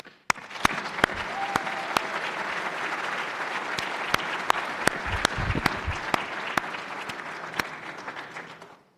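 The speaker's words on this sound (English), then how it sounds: "Let me first give you all a round of applause." Applause at a medical academy induction ceremony: a steady, full round of clapping from a large audience, punctuated by sharp, close individual claps, ending abruptly.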